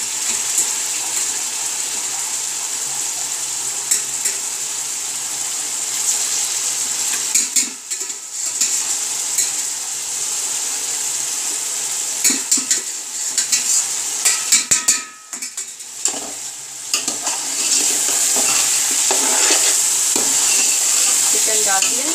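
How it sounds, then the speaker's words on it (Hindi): Chicken fries in a pot with garam masala for yakhni pulao, giving a continuous loud sizzle with repeated scraping stirs and brief clatters of a spoon against the pan. "अब मैं इसमें चिकन डाल देंगे।"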